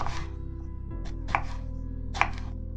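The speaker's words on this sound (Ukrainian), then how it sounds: "Спочатку нам треба нарізати баклажани завтовшки приблизно 7-8 мм." A knife slices eggplant into rounds about 7-8 mm thick on a cutting board, a few crisp chopping strokes spaced apart over a low steady hum.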